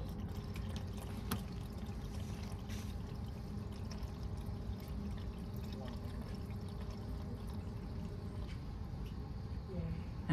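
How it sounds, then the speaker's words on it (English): A water pump runs steadily, filling the reservoir of an automated hydroponics enclosure built around an RP2040 controller, giving a constant low pouring wash that stays level throughout with no talk. "Okay, so there's the water's pumping."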